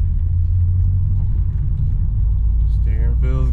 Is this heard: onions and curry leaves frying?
no